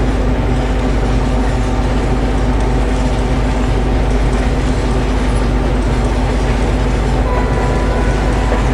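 The Dibrugarh–New Delhi Rajdhani Express in Indian Railways Train Simulator runs at speed, a loud, constant rumble of wheels and wagons rolling along the track without pause.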